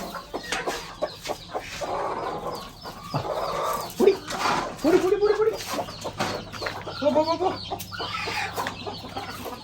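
Chickens cluck and squawk in bursts, several birds calling nearby with a rooster-like cry, over faint outdoor background noise.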